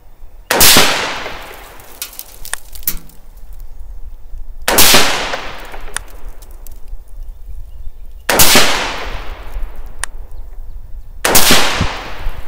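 Four loud rifle shots fired through a Ballistic Advantage premium fluted barrel, spaced a few seconds apart, each a sharp close crack followed by a decaying echo, with quiet outdoor ambience between them.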